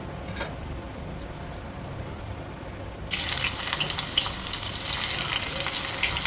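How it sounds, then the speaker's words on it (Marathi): Garlic hits hot oil in a pan for a Malvani dish; after a quieter start, a loud, bright sizzle bursts in halfway and keeps crackling steadily up close, with no voices. "तेल घेतले त्याच्यात मी टाकणार आहे आता सर्वात पहिला लसूण"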